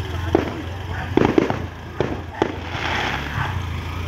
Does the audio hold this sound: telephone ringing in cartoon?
no